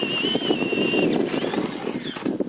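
A Tamiya Mystery Machine Lunchbox RC car drives nearby, its small electric motor giving a steady high whine that rises and falls in pitch over a continuous rumble of wheels.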